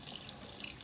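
Water running steadily from a tap while a kitchen sink is washed out after preparing mackerel, a continuous close splashing rush.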